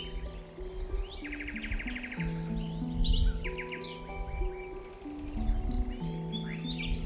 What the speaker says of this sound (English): A chirp that may seem simple is, in fact, an incredibly precise warning signal.